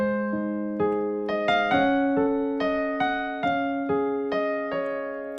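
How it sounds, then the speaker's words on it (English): A piano slowly plays part 3 of a song, a sequence of sustained chords and single notes struck one after another at a relaxed, even pace, close and clear. "So let me play part 3 for you very slowly to eliminate any confusion."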